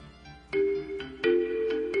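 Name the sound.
big red phone ringing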